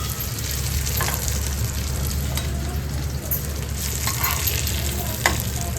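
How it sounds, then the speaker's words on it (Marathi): Barramundi fish pieces fry in a pan with a steady, loud, close sizzle, and faint stirring scrapes surface now and then. "कडक एकदम तुकड्या फ्राय झाल्यात"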